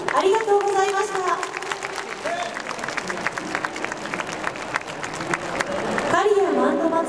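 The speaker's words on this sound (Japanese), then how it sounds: "もう一度大きな拍手をお願いいたします。" Loud applause from a large crowd in a Tokyo Dome hall after a Kariya Mando festival dance performance, a dense sustained clapping with cheering, while an announcer's amplified voice speaks over it.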